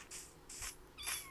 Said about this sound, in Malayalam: ഇവിടെ പൂച്ചകൾ ഇഷ്ടം പോലെ.